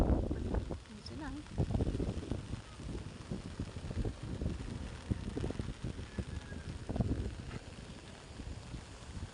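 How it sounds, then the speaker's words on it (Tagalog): Strong wind blows by the sea, where boats have been pulled up from big waves, buffeting the microphone with rough gusty rumble under someone talking close by. "ngayon po ay lumakas po ang hangin"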